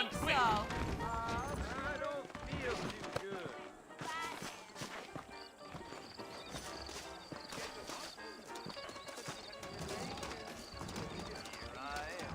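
Horses clip-clop steadily across the ground in the Red Dead Redemption western game on PS4, hooves clear and near, with a whinny, scattered knocks and people talking over the rhythm throughout.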